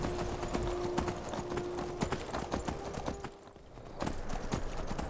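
Galloping horse hooves in Skyrim, a fast steady clip-clop rhythm running almost throughout, close and fairly loud, briefly dipping near the end before resuming.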